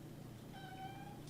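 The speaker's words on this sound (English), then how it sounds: "Shut up, kitty." A house cat gives a single short meow, faint behind a low steady background hum.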